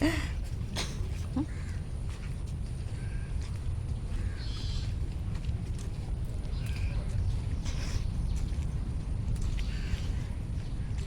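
A few scattered bird calls ring out faintly over a constant low rumble of the sea at a beach.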